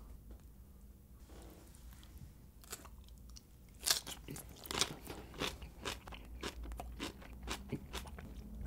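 Kimchi being chewed close up, quiet at first, then a run of sharp wet crunches and bites that come in an irregular rhythm and grow louder partway through.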